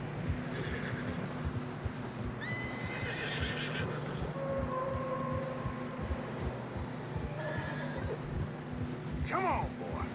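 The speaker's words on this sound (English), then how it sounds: "Horses are struggling." Horses in deep fresh snow in the video game Red Dead Redemption 2 whinny and neigh several times over steady hoof clops and a low ambient rumble, with game voices speaking at moments.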